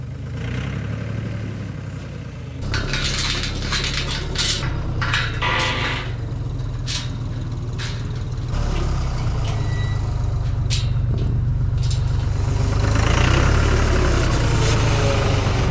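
A heavy diesel tractor engine idles steadily at close range, with scattered clanks and bursts of higher-pitched noise over the low rumble.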